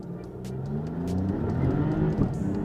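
A 2022 Maserati MC20 engine revs and accelerates steadily through a tunnel, its rising drone reverberating in the enclosed space, with a few sharp ticks over the hum.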